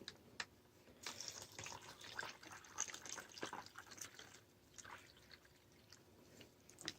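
Cold water trickles and splashes into a plastic MRE drink pouch from a 2017 US First Strike Ration, heard close and quiet with scattered drips and crinkles and no talk.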